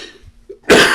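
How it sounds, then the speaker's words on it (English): A single harsh, loud cough bursts out near the end after a quiet stretch with faint breathing. "I'm so tired of coughing."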